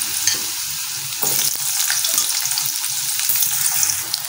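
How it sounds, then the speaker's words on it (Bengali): Mustard seeds and potatoes frying in hot oil in a home kitchen, a continuous crackling sizzle that swells louder partway through as pieces go in, with faint stirring clatter and no talk. "এখন আমি তেলে দিয়ে দিব একটু সরিষা ফোড়ন। সরিষাটা ভাজা হয়ে গেলে আমি আলু দিয়ে দিব"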